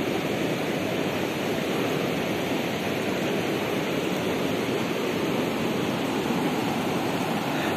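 Paraíba River water rushing over rocks, a loud, continuous broadband roar with no breaks, close by and unaccompanied by speech.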